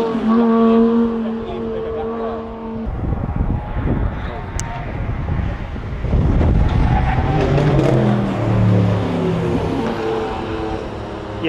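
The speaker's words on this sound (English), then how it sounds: "You heard the braking noises there" A car braking hard into a corner at Mallory Park during a supercar festival, heard as loud engine roar and tyre noise close by, with crowd chatter and voices talking over much of it.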